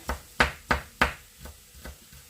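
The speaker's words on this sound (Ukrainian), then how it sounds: "І тепер нарізаю такими зовсім невеличкими шматочками." A knife chops garlic on a cutting board in quick taps, four sharp strikes followed by several softer ones, close and clear without talk.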